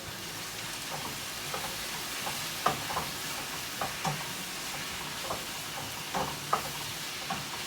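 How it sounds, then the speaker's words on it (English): Spicy hoisin chicken frying in a pan with rice vinegar and dark soy sauce, a soft continuous sizzle broken by repeated scraping and clacking of a utensil as it is stirred, with no speech. "And we'll just keep stirring this."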